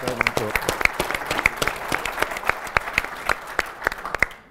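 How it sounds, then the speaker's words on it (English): A room of people claps after a video screening at a broadcast-industry feature event, sparse at first with distinct individual claps, close and fairly loud throughout. "Look, round of applause for the video."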